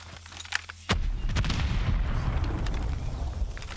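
Gunfire in the mobile shooter Call of Duty: Mobile during an esports match: after a quiet start, a loud sharp burst of shots erupts, followed by a dense, sustained rattle of weapon fire and explosions for the rest of the moment.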